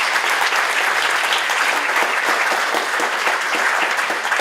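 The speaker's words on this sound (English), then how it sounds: "Let's give ourselves a round of applause for that." A luncheon audience at a Franklin County Chamber of Commerce event applauds with steady, dense clapping that stays loud and even from start to finish.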